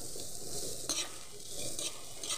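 A homemade cough and cold remedy being stirred in a pot on the stove, a soft continuous bubbling sizzle with intermittent scraping swirls of the spoon, fairly quiet and close, no voices.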